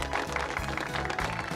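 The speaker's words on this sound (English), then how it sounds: "The place erupted into cheers and applause." A church crowd cheers and applauds: a dense, steady wash of clapping and voices lasting throughout, fairly loud and close.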